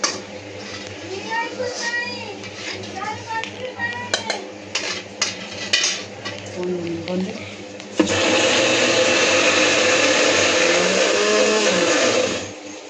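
A mixer grinder grinding peanut chutney starts abruptly and runs loud and steady for several seconds after clattering kitchen sounds and talk, then cuts off.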